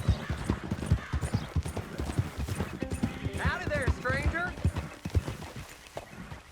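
Horse hooves clip-clop steadily at close range in Red Dead Redemption 2, with a brief whinny partway through, under ongoing character dialogue.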